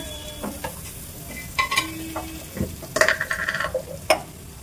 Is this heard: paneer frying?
yes